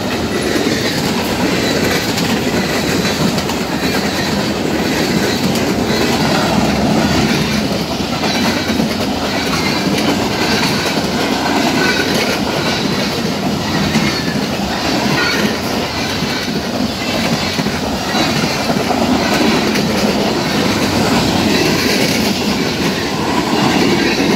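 A freight train of tank cars and flatbed cars rolls past close by, a loud continuous rumble with rhythmic clickety-clack of wheels on rail joints and occasional wheel squeal, no voices.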